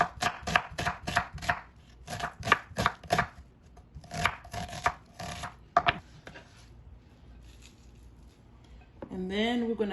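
A knife chopping a large onion on a board, a quick run of crisp, evenly spaced strikes, then a pause and a few scattered cuts before other kitchen noise.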